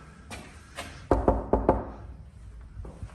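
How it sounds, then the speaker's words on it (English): Knuckles rap on the front door of a house in a close burst of about four loud, quick knocks, with a couple of softer taps before and after and no talking. "I think I'm gonna knock on the door here"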